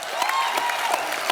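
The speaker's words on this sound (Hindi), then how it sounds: "अनु सर और सोनू बाजी के लिए जोरदार तालियां हो जाए" Studio audience applause on The Kapil Sharma Show, a Hindi comedy talk show: a dense, even patter of many hands clapping at once for about a second and a half, loud and close, with no voices over it.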